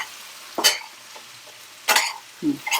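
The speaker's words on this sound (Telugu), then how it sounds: "ఇట్లా గోలుతుంటేనే బాగుంటాయి" Potato and capsicum curry is stirred in an oily pan, three or four brief scraping strokes over a faint sizzle, close by, with no voices.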